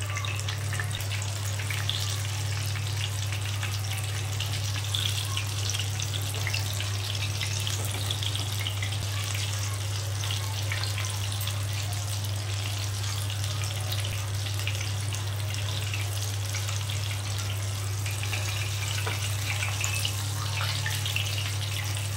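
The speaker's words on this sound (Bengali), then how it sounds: "মিনিট 3-4 ধরে আমি এরকম উল্টে পাল্টে ভাজবো, যেন ভেতরে চিকেনটা এতেই সেদ্ধ হয়ে যায়।" Chicken leg pieces fry in oil over low heat, giving a steady, even sizzle and hiss that runs unbroken and alone, with a faint low hum beneath.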